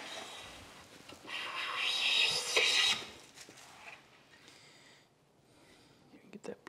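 A hand plane set for a very light pass shaves a wooden board with a sharp blade, giving a close, breathy rasping hiss that swells over a couple of seconds and then fades to softer scraping and small handling taps.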